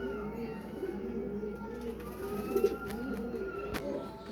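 Golden pigeons at a pigeon sale in Faisalabad coo softly and repeatedly amid steady background noise and bird sounds, with a few sharp clicks.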